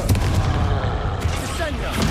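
A booming spell blast from the Bombarda and Confringo spells in the video game Hogwarts Legacy, a loud close explosion with crackling tails amid dense combat noise.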